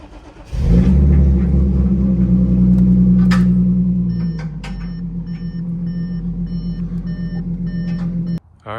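Supercharged Audi engine starts with a deep, loud rumble and idles heavily, then settles into a steadier idle as a repeating electronic reversing beep chimes alongside it, ending in a sharp cutoff.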